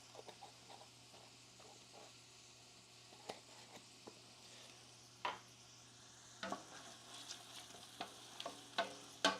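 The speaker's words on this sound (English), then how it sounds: "Salt is always good to add in the beginning to help sweat out these onions." Salted onions sweat in a pan, a faint, low sizzle under scattered light clicks and scrapes of stirring that grow a little louder toward the end.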